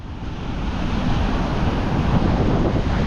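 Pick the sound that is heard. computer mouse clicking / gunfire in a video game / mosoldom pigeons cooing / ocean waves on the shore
ocean waves on the shore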